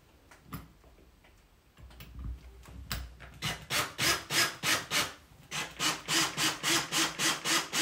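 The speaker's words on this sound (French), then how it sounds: "je mets la vis dans le trou" A few clicks and knocks, then a drill whirring in a quick series of short pulses as a screw is driven in while installing a curtain rod, close and loud.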